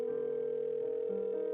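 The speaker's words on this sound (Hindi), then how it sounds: "अपने मोबाइल से किसी को कॉल किया" A mobile phone call produces a steady electronic tone with slight pitch shifts, heard clearly and alone for under two seconds.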